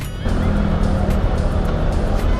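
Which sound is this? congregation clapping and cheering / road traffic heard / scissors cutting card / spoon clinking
road traffic heard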